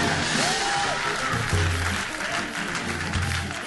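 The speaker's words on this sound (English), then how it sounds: "Clap for all the band" A church congregation at World Harvest Church applauds the worship band, with steady, full clapping and low instrument tones humming underneath.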